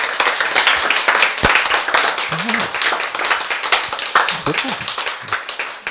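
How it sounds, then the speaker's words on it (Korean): An audience at a Bible lecture seminar claps in a dense, continuous patter close by, with a speaker's voice cutting in over the clapping. "박수!"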